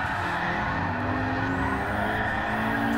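Nissan S13 with 400 hp drifting on a street course in GT Sport, tyres squealing steadily over a loud, continuous engine drone, with pitch sweeps as the throttle rises through the drift.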